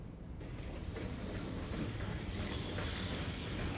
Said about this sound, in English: Single train car rolls in.